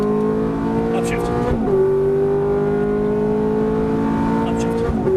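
A Ferrari F430 engine accelerates hard on a race track, its loud steady roar climbing in pitch, dropping briefly at an upshift and then rising again, with an instructor's voice coaching over it.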